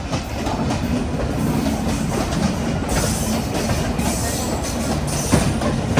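Jamnagar–Tirunelveli Express sleeper train rolling into Vasai Road station, heard from on board as a loud continuous rumble with clickety-clack of wheels over rail joints and a brief clank near the end.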